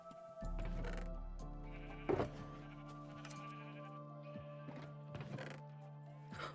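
Sheep in a Minecraft wool farm bleat in scattered, overlapping calls, soft to moderate, over a steady low hum with no talking.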